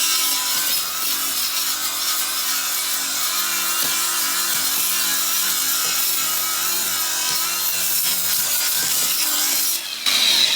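Sandpaper rubs back and forth over rusty metal on a 2007 GMC Yukon XL, a continuous close, loud gritty scraping with a faint rhythmic stroke pattern.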